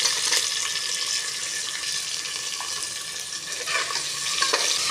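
Spices, green chillies, cashews and sliced onions fry in hot oil with a soft, steady sizzle and occasional faint stirring, close by and fairly quiet.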